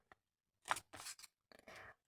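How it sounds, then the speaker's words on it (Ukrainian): A paper surprise packet being opened by hand: a few quiet, broadband crinkling and tearing bursts in quick succession, close to the mic, with no talking. "Тож зараз ми відкриємо цей пакетик."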